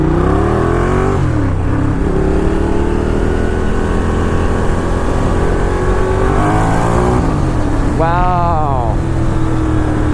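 Ducati Diavel cruiser motorcycle accelerating hard in second gear, a loud continuous engine roar climbing steadily in pitch through the rev range, with a brief voice heard over it.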